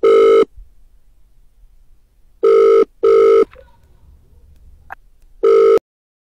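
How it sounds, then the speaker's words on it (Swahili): A telephone ringing in a household scene: three loud electronic ring bursts, two close together and a later one, each clear and alone with quiet gaps between. "Pokea simu Juma."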